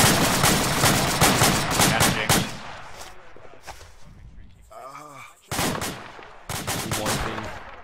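Suppressive gunfire in the military video game ArmA, with sustained bursts of close automatic weapons fire followed by a quieter lull and then more heavy shooting.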